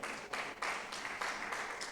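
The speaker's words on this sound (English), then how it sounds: "let's give her another round of applause" An audience claps steadily in a hall at a colloquium, honouring someone speaker. The applause is broad and continuous and comes in slightly swelling waves, with no voices over it.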